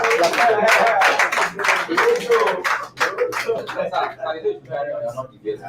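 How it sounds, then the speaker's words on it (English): An audience claps at a salesmanship talk, with scattered hand claps and a loud burst of clapping close by, mixed with talking voices throughout. "And that is why, clap for them."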